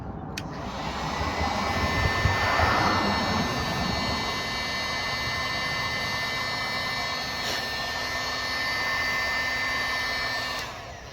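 A heat gun warms a carbon fiber rear splitter on a Mercedes-Benz C204/W204 body, a loud, steady close-up blowing whir with faint clicks near the start and end.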